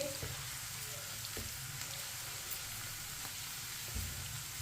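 Finely chopped onion fries in ghee in a pan, a soft, steady sizzle with occasional spoon scrapes as it is stirred, faint and continuous.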